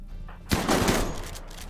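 Gunfire breaks out in a RimWorld battle with a big raid: a sudden burst of overlapping shots, then dense, rolling crackle that carries on steadily.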